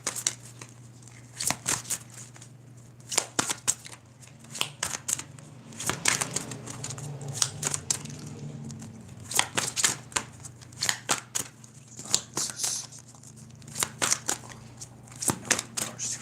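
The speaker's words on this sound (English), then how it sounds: "I'm shuffling." Tarot cards riffle and slap together in repeated bursts of crisp shuffling, close by, over a steady low hum with quiet pauses between rounds.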